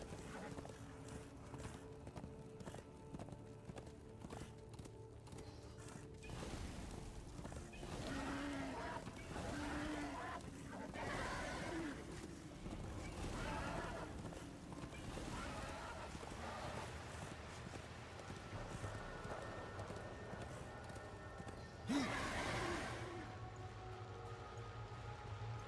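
Hooves clip-clop rhythmically as a horse gallops in the video game Darksiders II, a steady, moderately quiet beat under ambient game sound, with a brief louder burst near the end.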